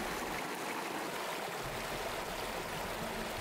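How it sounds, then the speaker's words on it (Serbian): Hot spring water cascades over stepped travertine terraces on a 70-metre slope at Pamukkale, making a steady, even wash of flowing water with no voices. "Preko stepenastih kaskada voda se preliva na padini dužine 70 metara."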